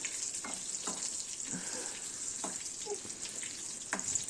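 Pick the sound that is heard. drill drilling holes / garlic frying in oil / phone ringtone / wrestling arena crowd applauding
garlic frying in oil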